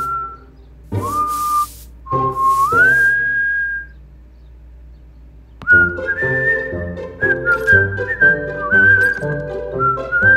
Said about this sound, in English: When you whistle, you make sound by blowing air through your lips and teeth.